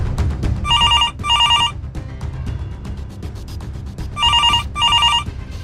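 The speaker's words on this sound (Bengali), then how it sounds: "ফোনটা ধরো" A telephone bell rings in two pairs of bright electronic trills, separated by a pause, over a low rumbling background.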